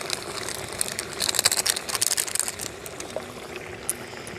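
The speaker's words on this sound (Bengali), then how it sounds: "কিছুক্ষণ ফুটিয়ে নিয়েছি, এখন ঢাকাটা খুলছি" Loita fish curry simmers in a pot, giving soft bubbling and crackling with quick splutters and light clinks, brief flurries rising in the middle before settling back to a gentle hiss.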